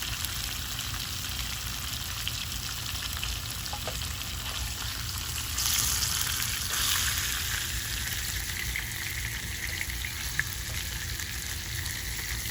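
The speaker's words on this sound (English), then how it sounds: "I let my salmon sear on all 4 sides" Salmon searing in a hot pan gives a steady, dense sizzle and crackle that holds evenly throughout, with a slight swell partway and no voices.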